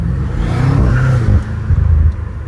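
A BMW M5 Competition's engine revs in deep, close rumbling surges from inside the car, rising and falling several times.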